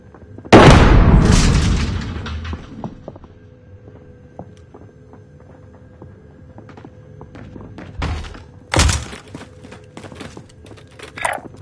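A grenade in a Caldera battle-royale video game goes off as a heavy, booming blast near the start that rolls off slowly, and a second sharp thump comes later over faint game ambience.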